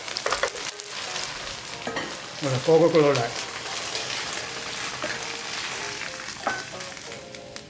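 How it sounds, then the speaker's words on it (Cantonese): Beef stir-fries in a wok over high heat, a steady crackling sizzle with bursts of spatula stirring and scraping, while a voice speaks briefly at the start. "We're going to cook the beef for about 40 to 60 seconds on high heat until it's mostly brown"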